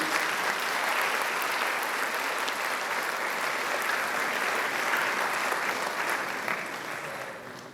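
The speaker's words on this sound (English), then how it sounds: "Let's give them a very big round of applause, please." Sustained applause from a large audience honoring parents at a graduation ceremony, a dense, even wash of clapping lasting several seconds before tapering slightly at the end.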